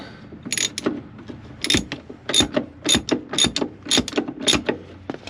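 A ratchet wrench tightens a bolt on a 1955 Ford Crown Victoria, giving a close, loud series of rhythmic clicking strokes, about eight bursts of rapid pawl ratcheting in steady succession.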